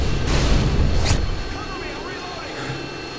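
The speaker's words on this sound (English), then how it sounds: "that's my Harrier in the air" A Harrier jet in Modern Warfare 2 roars loudly overhead during a Search and Destroy match on Skidrow, the broad rushing blast peaking at first and then fading away into quieter game ambience.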